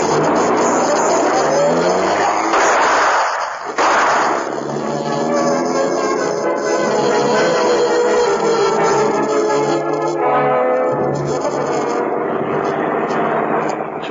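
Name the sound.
car chase with tires squealing, radio drama sound effect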